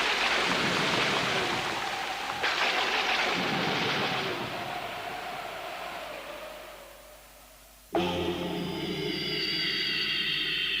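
Rain and thunder sound effect in a stage dance-drama about pollution and black rain, a loud continuous wash of rain with rumbling thunder that fades, then a sudden sharp crack near the end followed by ringing tones.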